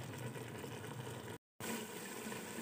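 Water poured into a pot of fried potatoes for biryani, a steady broad rushing splash with a brief break partway through, fairly quiet and with no talking.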